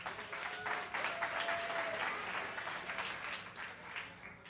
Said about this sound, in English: Clap if you're older than 39.